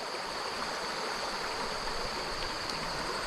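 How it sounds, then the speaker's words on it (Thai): A small stream flows down a forested mountainside toward a reservoir, producing a steady, even rush of water with no pauses. "เป็นลำธาาในน้อยครับน้ำนี่มันกระจายไหลลงเขา"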